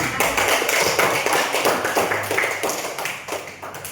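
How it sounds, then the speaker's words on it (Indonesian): Hands clap steadily in a classroom to encourage a nervous classmate, a dense run of overlapping claps from several people that stays fairly loud throughout, with no talking. "Tepuk tangan agar dia jadi."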